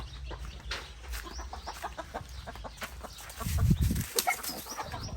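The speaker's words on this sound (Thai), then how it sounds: "นี่ไก่เจี๊ยบอันนี้พ่อไก่นะครับ" Chicks and a rooster clucking softly nearby at a home, with scattered short calls and a louder low burst of movement midway.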